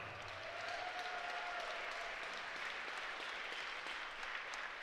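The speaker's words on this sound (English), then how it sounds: "a round of applause for one great fight" Steady applause from a crowd at a kickboxing fight night after a three-round bout, a continuous wash of clapping that holds level throughout with no voices rising above it.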